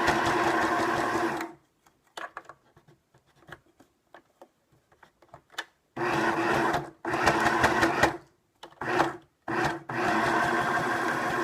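Short bursts of a sewing machine stitching through paper clouds on a pop-up card, separated by quiet gaps filled with faint taps and paper handling; the motor is close and loud whenever it runs.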